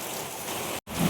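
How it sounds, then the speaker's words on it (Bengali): Heavy rain pours down onto a tiled roof with gaps in the tiles, a dense, steady hiss of falling water that breaks off very briefly before resuming. "এত জোরে বৃষ্টি হচ্ছে।"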